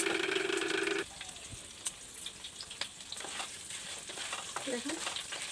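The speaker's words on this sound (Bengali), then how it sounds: "আমি আলুটা একটু ভেজে নিচ্ছি," Potato pieces frying in hot oil with bay leaves and five-spice seeds, a loud steady sizzle at first, then softer crackling with scattered stirring clicks and scrapes against the pan.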